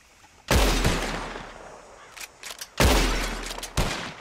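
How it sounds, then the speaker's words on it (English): Revolver gunshots in the Red Dead Redemption 2 bottle-shooting contest: two loud, sharp blasts with long ringing tails, separated by a few smaller pops and a clink. "whoever shoots the most bottles wins"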